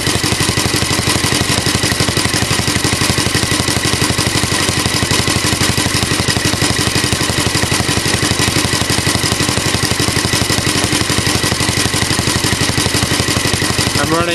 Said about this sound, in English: I never had one of these little tank-cooled engines before.